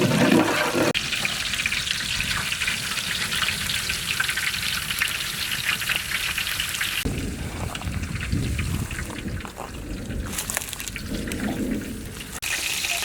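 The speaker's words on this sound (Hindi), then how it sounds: "ऑयल गर्म होते ही इसमें हम लोग चॉप्ड जिंजर और गार्लिक ऐड करेंगे।" Chopped ginger and garlic fry in hot oil, making a loud, dense, close sizzle that crackles steadily throughout, surging and shifting in texture partway through as the pieces are moved in the pan, with no one talking.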